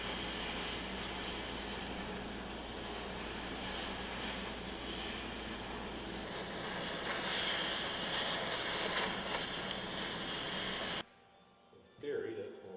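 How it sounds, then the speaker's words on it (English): Loud, continuous cutting of rivets from the cross members of a 1957 Dodge pickup frame, a harsh steady hissing roar that runs unbroken for about eleven seconds and then cuts off abruptly, followed by a brief quieter sound. "I'll ask Matt to cut these rivets off to the cross members."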